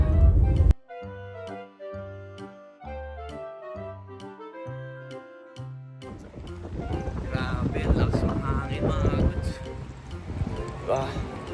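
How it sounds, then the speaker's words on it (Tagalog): Strong wind buffets the microphone with loud, continuous rumbling gusts for most of the clip, following a short stretch of music. "Napakalakas yung hangin."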